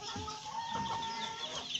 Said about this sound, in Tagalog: Yan po yung mga alaga niyang manok. Mga hybrid.